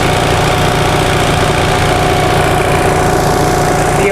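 A 1945 Onan generator engine runs loud and close, a steady, even mechanical drone with a constant low hum and vibration and no pauses or voices.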